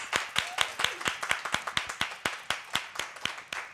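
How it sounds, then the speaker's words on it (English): An audience at an annual meeting of a Delaware adolescent program claps in a brisk, even rhythm of distinct hand claps, fairly close and moderately loud, without anyone talking over it. "Can we give her a round of applause?"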